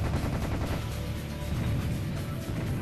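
Rapid gunfire in the shooter game Serious Sam: The Second Encounter, a loud continuous barrage of shots and explosive blasts filling the whole stretch without speech.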